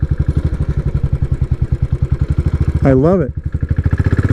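A Royal Enfield 535 Continental GT motorcycle rides along with a close, rhythmic thumping engine beat, and someone speaks briefly partway through.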